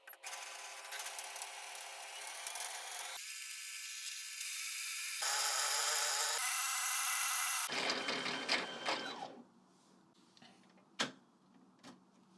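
A sewing machine's bobbin winder spins khaki thread onto a bobbin, a steady high whir that shifts pitch in stages before stopping, followed by a few faint clicks.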